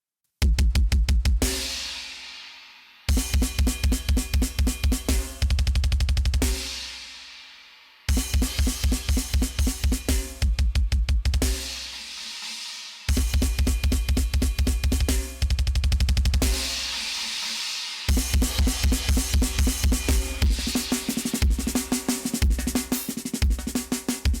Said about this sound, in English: So the drum parallel compression by itself sounds like this.